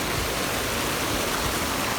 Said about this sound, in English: So there's a mini waterfall, amazing babes